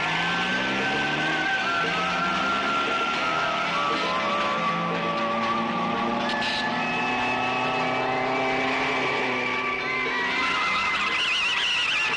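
A car drives and skids with continuous engine drone and tire squeal, loud and sustained, with no talking.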